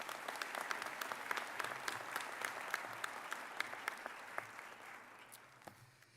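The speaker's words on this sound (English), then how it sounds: "Let's clap." An audience applauds at a medical school white coat ceremony, sustained clapping from a large crowd heard at moderate distance, gradually tapering toward the end.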